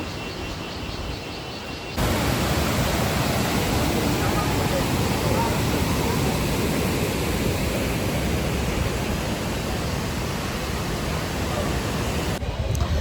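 A waterfall in Wayanad roars as a steady, loud broadband rush that starts abruptly after a quieter opening and continues without pause.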